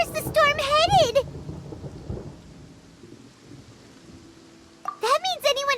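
A thunderstorm with rain from the Genshin Impact video game rumbles low and steady between stretches of character dialogue that open and close the moment.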